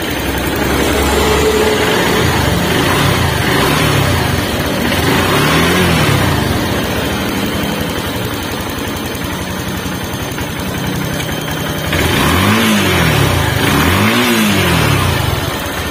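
A car engine idles loudly and steadily up close during a charging-system check, then gets a few quick revs that rise and fall sharply near the end.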